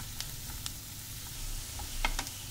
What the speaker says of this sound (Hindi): 1 मिनट में ही मसाला जो है वो अच्छे से भुन गया है